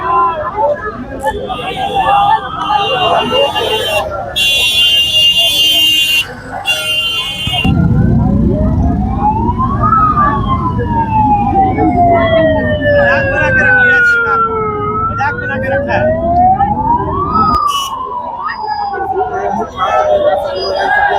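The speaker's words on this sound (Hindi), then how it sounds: "सत्यनारायण शुक्ला, उसे अभी जो है एम्बुलेंस 1 घंटे बाद आई है और अभी उसे हॉस्पिटल ले जा रही है" A loud wailing ambulance siren sweeps slowly up and down over steady traffic noise and crowd chatter at a student protest in India, close by and continuous.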